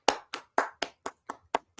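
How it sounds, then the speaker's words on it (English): A group of people clapping in sharp, separate bursts, about eight claps spaced unevenly over under two seconds, close and fairly loud with no talk. "Give yourself a hand clap,"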